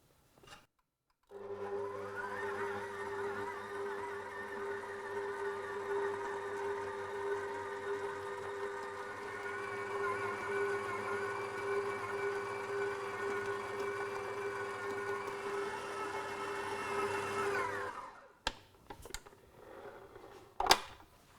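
A stand mixer kneading bread dough hums steadily at a constant pitch for about sixteen seconds, then winds down and stops, followed by a couple of brief knocks.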